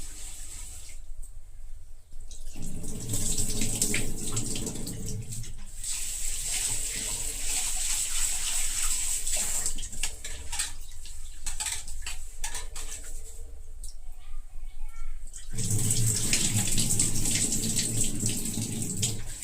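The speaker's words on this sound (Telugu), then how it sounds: "ఇది మనం రైస్ కడుక్కుందాం. ఒక 2-3 టైమ్స్ కడిగేస్తే రైస్ బాగుంటుంది." Rice is rinsed under a running kitchen tap, with water gushing loudly and continuously at close range, its tone shifting in waves as the grains are swirled and the rinse water is poured off, alongside faint clinks of the pot.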